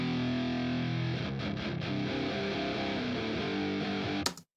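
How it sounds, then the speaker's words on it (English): Rock guitar with different effects on the left and right channels, a loud, thick, distorted chordal part playing continuously with sustained notes and shifting riffs, then cutting off abruptly at the end. "So the effect is to have that quite big guitar sound"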